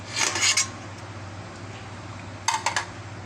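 Cooked macaroni pasta going into a bowl for a chicken salad, two short bursts of clinking and scraping utensil-on-dish sounds separated by a quiet pause, with a steady low hum underneath.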